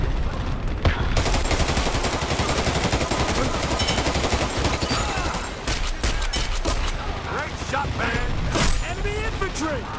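Gunfire in the shooter game Dirty Bomb: dense, continuous automatic bursts and mechanical weapon clatter fill the scene loudly, with voices speaking over the shooting.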